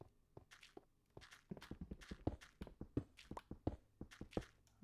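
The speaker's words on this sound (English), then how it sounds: "I hear footsteps." Footsteps echo through a video game dungeon, a steady run of soft thuds at a walking pace, moderately close and heard alone without talk.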